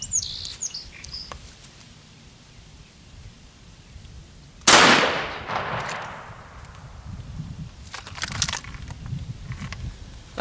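A single loud 12 gauge shotgun slug blast fired at cinder blocks cracks out partway through, with a sharp attack and ringing decay, following a quiet stretch of faint outdoor bird chirps.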